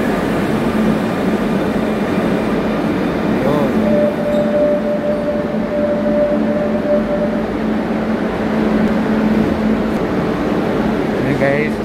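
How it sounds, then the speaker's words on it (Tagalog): A Barcelona metro train arriving at an underground platform: a loud, steady rumble of rail noise with sustained whining motor tones throughout, close and continuous. "Okay guys, ito na yung tren na sasakyan ko."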